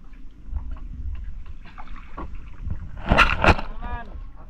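A small boat moves on open sea water at a spearfishing spot, with splashing and gurgling at close range and a louder wash of water in the middle, while people speak over it.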